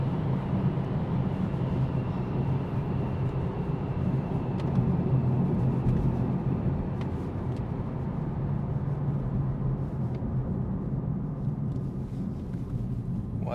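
A BMW M4 Competition in comfort mode accelerating hard through the gears, its engine and exhaust a steady, full rumbling drone heard from inside the car, with no talk over it.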